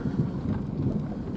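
Steady outdoor rain on a foggy day, a dense low rushing wash with no distinct drops, continuous and fairly loud with no talking.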